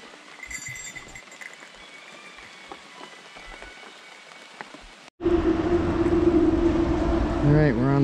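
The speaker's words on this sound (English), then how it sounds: "It's really started raining now" Rain patters steadily on a wet hiking trail near Creston, British Columbia, faint at first, then a sudden loud, dense hiss of falling rain close by, with brief voice-like tones near the end.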